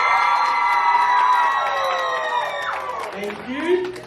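A crowd of young people at a Samoan youth break-up party in Canberra cheers and whoops loudly for a best-dress vote, a sustained wave of high voices and shouts that fades slightly before a voice speaks near the end.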